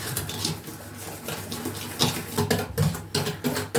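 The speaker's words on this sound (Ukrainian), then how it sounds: "І зараз ще раз перемішаємо" Cake batter of sugar and oil stirred in a bowl for economy cupcakes, giving continuous scraping and clinking of a utensil against the bowl with irregular knocks, close and steady.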